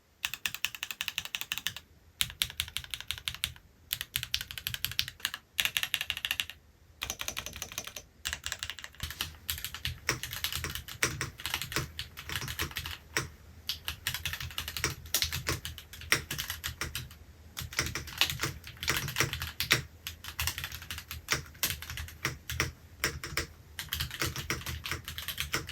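Rapid clacking keystrokes on a Kwumsy K3 mechanical keyboard run steadily and close up, a busy stream of crisp clicks broken by brief pauses, with no talk.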